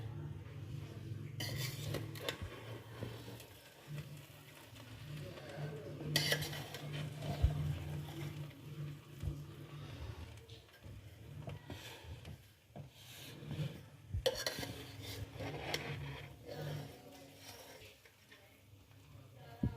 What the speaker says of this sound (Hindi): चावलों का हो चुका है दम, अब इसे हिला लेते हैं